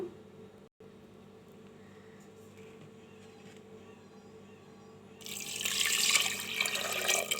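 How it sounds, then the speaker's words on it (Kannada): A quiet hum carries on until about half a litre of water suddenly gushes into a pressure cooker, a loud splashing pour that fills the last couple of seconds. "ಇವಾಗ ಇದಕ್ಕೆ ಒಂದು ಅರ್ಧ ಲೀಟ್ರಷ್ಟು ನೀರನ್ನು ಆ್ಯಡ್ ಮಾಡ್ಕೊಳ್ಳೋಣ"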